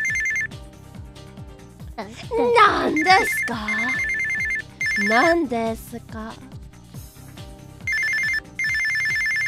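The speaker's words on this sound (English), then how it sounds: "So this phone ringing is killing my ears too." Phone ringing in an anime, a repeated electronic ring in bursts across the clip, loud and steady, broken up by animated characters' shouted dialogue.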